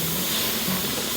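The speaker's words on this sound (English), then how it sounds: "there is a steady stream of steam coming out of this pipe vent" Steam streams from the pipe vent of a pressure canner in a constant, close, broadband hiss that holds steady without pause.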